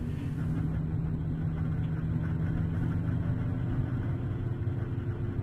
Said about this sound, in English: you can hear and see the vibration that's coming through the chassis